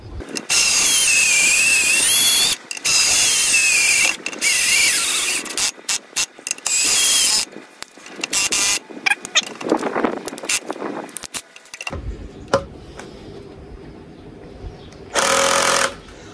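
A cordless screwdriver drives long screws into wood in loud, whirring bursts that stop and start, with ratcheting clutch clicks and brief pauses between runs, ending in a final short burst.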